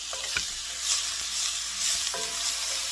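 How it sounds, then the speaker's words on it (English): Onions going into a hot pan for turkey Romano meatballs, a steady bright sizzle with a few clinks and stirring knocks, close and continuous. "So we're going to put the onions in"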